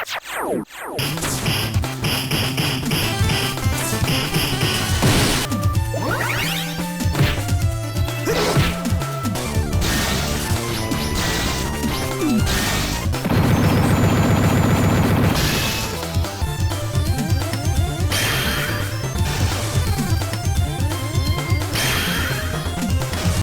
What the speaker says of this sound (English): One of my absolute favorites that just hits my brain just right was the metallic punch sounds.